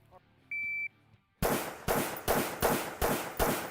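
Rifle shots fired in quick succession: six sharp, loud cracks spaced about half a second apart, each with a short decaying tail, following a brief electronic beep.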